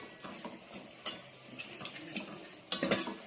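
A spoon stirs pigeon pea (tuvar dana) curry in a pan, with soft scraping and light metallic clinks spread across a few seconds and a faint sizzle underneath.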